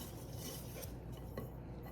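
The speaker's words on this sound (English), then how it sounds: "Okay, so mix this up." A spoon stirs pumpkin bread batter in a bowl, with soft scraping and faint clinks close by, steady and continuous with no voices.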